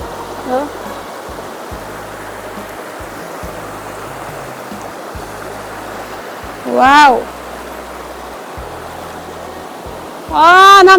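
A forest stream flows steadily in Laos, a broad continuous wash of water close by, with faint low rumbles and a few brief voice-like sounds rising over it.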